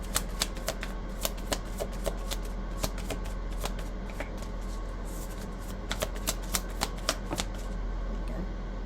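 Tarot cards are shuffled at close range in a quiet room, a run of crisp riffling clicks and soft slaps repeating in uneven bursts with no voices.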